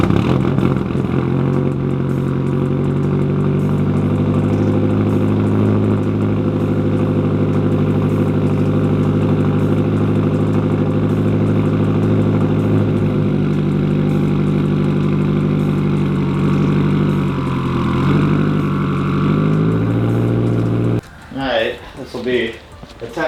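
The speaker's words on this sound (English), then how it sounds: "let me get the camera set up right here and then we'll start this thing up." A Subaru WRX with a swapped-in STI engine runs at a steady loud idle close by for about twenty seconds, then cuts off, leaving uneven knocks and shuffling noises.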